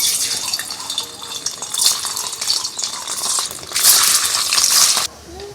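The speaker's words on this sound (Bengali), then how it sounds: "তেল গরম হয়ে গেছে এবার পনিরগুলো ছেড়ে দিচ্ছি" Paneer pieces fry in hot white oil in a wok, giving a close, steady crackling sizzle that swells louder near the end and then stops abruptly.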